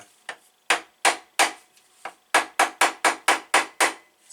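A hammer taps a moped engine casing during a Rieju RR50 rebuild, producing about a dozen sharp, close metallic knocks. They start irregularly, then come in a quick, even run near the end.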